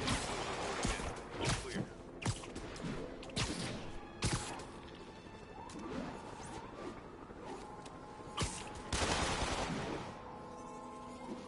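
Video game gunfire in a shootout with armed convicts: bursts of sharp shots and clattering impacts, some rapid and some single, over a faint background, with brief moments of quiet between volleys.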